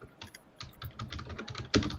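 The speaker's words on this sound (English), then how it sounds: "Who's typing? Oh, it's probably me." Fast typing on a computer keyboard, a dense run of close key clicks with a few brief pauses and a sharper burst of keystrokes near the end, heard without speech.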